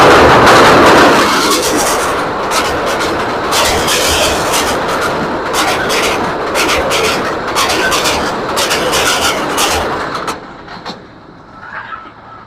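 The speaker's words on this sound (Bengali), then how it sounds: "তো ভিডিও শুরু করতে একটি ট্রেন চলে গেল, সেটি হচ্ছে এটা গেল হচ্ছে বাংলা বান্দা এক্সপ্রেস" The Bangla Banda Express passes through Basudebpur railway station in Natore with a loud, close roar and rhythmic wheel clatter. The sound drops away sharply near the end to quieter sounds.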